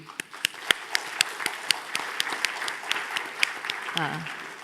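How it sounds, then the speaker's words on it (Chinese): An audience at a conference on globalization applauds the guests, a room full of crisp clapping with distinct individual claps standing out, sustained throughout with a brief voice near the end. "大家也可以给在座的所有的嘉宾一些掌声的这个鼓励"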